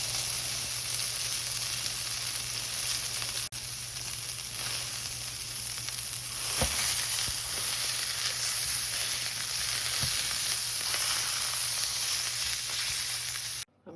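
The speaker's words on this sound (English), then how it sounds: "Okay, I'm going to cook the sausage for the egg casserole." Sausage frying in a smoking-hot pan for an egg casserole, a steady close sizzle that runs unbroken throughout with a faint low hum beneath and a few small pops.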